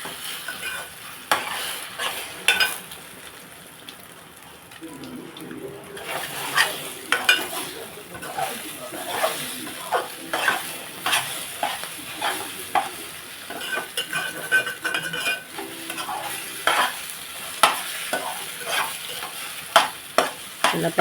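Egg fried rice is stirred in a hot pan, with a constant sizzle under repeated scraping and clattering strokes of the spatula, close and fairly loud.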